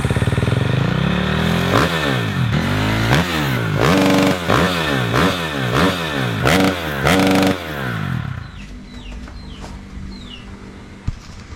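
Yamaha WR155 motorcycle engine revs repeatedly in sharp, rising bursts, about eight in a rhythmic sequence close by, then drops to a quiet idle with faint birdsong in the background.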